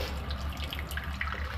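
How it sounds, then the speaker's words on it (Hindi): Water squeezed by hand from grated bottle gourd for kofta trickles and drips close up, a soft continuous splashing with scattered small droplets. "दबा के देखिए निकल रहा है ना, कितना सारा पानी इसमें निकल गया है।"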